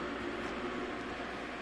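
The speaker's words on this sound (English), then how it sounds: "This is the noise of the chiller." Steady, quiet mechanical hum with a broad airy hiss, like a small cooling unit running continuously with no change in level.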